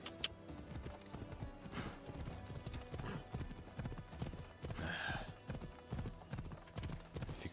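Rapid rhythmic hoofbeats of a horse galloping in Assassin's Creed Odyssey, steady and fairly close, with a brief whinny-like burst midway over a busy game soundscape.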